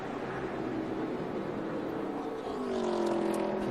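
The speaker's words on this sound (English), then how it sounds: "you can hear the car come by the front straightaway, and it just blew up" A NASCAR race car with a blown engine roars past on the front straightaway during the 2012 O'Reilly Auto Parts 300, a loud steady rumble that swells and rises near the end.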